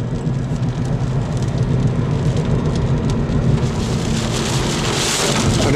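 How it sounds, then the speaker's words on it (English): Rain drums steadily on a car windshield while driving in a downpour, a dense, even patter over a low road and engine rumble that grows slightly brighter toward the end. "it's begun to rain out there, obviously. Raindrops on the windshield"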